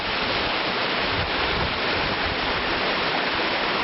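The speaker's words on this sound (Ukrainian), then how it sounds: "є маленький водопад" A small waterfall along the trail to the Manyava waterfall makes a dense, steady rush of falling water heard close and loud without a break, with no voices over it.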